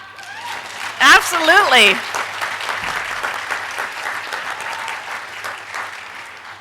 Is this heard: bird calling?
no